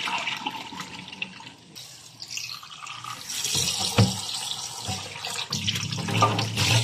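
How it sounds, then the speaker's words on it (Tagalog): Water poured and splashing during washing, a running, hissing flow that swells and fades in bursts, fairly close, with no talk over it. "Ibubuhos natin yung tubig."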